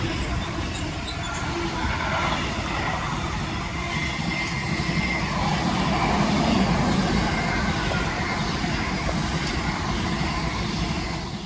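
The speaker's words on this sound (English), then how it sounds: "our final freight train we're going to see before we get our train is going to be from Donaldsmore to Ditton" Freight train running from Donaldsmore to Ditton, hauled by locomotive 66119 in Cheshire, rumbling past close by as a steady, broad roar with wagon noise that holds loud throughout, with no talk.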